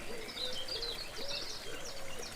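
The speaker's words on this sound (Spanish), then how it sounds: "los pájaros cantan en la distancia" Distant birds sing in repeated thin high chirps and warbling calls over a soft steady ambience near a pond with an angel statue, calm and moderately faint, with no voices.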